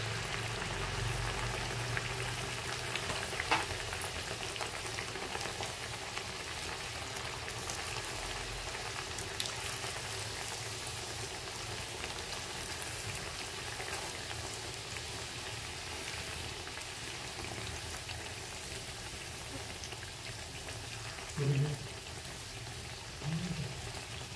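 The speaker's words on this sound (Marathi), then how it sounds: "आता आपल्या पुऱ्या छान तळलेल्या." Puris made from bhagar (barnyard millet) flour frying in hot oil, giving a steady, close sizzling hiss throughout with no talking.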